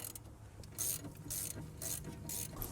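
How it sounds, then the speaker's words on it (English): Quick ratchet clicks come in short bursts as a bolt is tightened on a Mercedes ML350 strut, crisp and close but fairly quiet, with no voices. "Whenever you use ratchet, make sure it goes in pretty easy"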